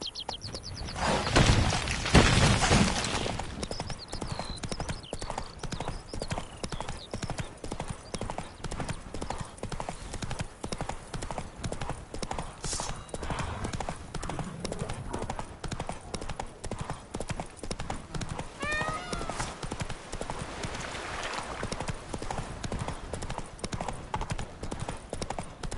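Roach, the horse in the Witcher 3 Blood and Wine expansion, gallops with steady, fast clip-clop hoofbeats throughout, under faint ambient game sound and a few bird-like chirps.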